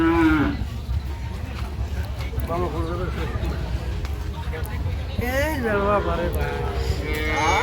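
Cow and calf mooing at a busy cattle market, several drawn-out moos rising over a constant crowd hubbub and nearby talk.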